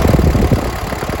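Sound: Kubota L4508 tractor engine running

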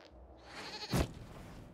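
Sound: goat bleating in the video game Dragon Age Inquisition

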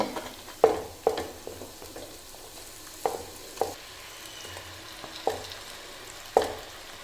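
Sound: stirring lemons frying with spices for lemon pickle

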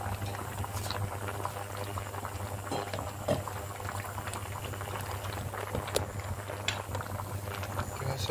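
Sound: spinach and corn soup simmering in a pot

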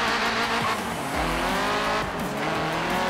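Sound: racing car engine at full revs in Forza Horizon 3 video game

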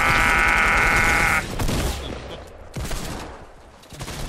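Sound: RPG gunfire in a video game

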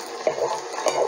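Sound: stirring sautéed groundnut chutney ingredients in a pan

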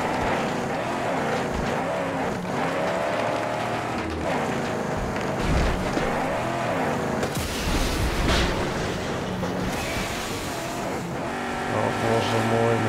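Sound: car driving off-road in video game Mad Max

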